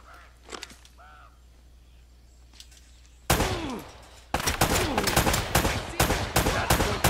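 Gunfire in Uncharted: Drake's Fortune, with a few faint clicks and shots before a loud blast, then a dense stretch of rapid, close, continuous shooting and impacts.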